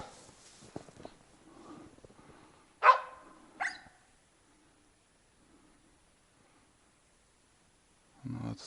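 A hunting dog in the taiga forest gives two sharp barks in the distance, followed by near silence, with faint rustling before them and a short low sound at the end.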